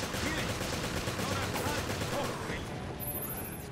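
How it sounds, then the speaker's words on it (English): Dense gunfire crackles through a Resident Evil Revelations Remastered fight, a continuous rattling barrage that thins slightly near the end, with game noise layered around it. "I shot it!"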